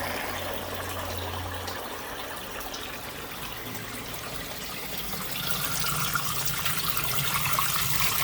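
Water flows from a pond bio filter into a garden bed, a soft, continuous trickling and splashing that swells louder toward the end.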